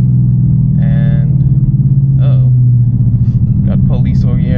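A steady low engine rumble from a 2024 Ford Mustang GT with a cowl hood idling close by, droning continuously with slight fluctuations and a few faint higher noises over it.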